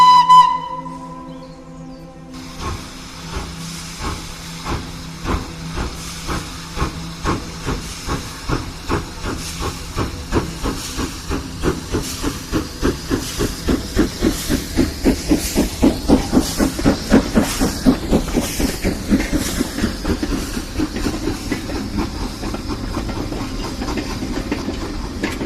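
A steam locomotive pulls away from a standstill after a brief whistle and hiss, its chuffing beats starting slow and quickening into a steady rhythm, loud and close, with steam hissing throughout and no voices.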